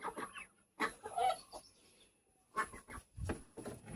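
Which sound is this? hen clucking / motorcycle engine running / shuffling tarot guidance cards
hen clucking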